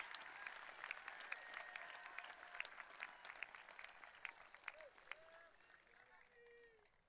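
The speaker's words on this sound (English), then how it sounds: "One more round of applause, please." Applause from a crowd at a Poway High School 2023 graduation ceremony, with dense clapping that stays loud for several seconds and then gradually thins and fades toward the end.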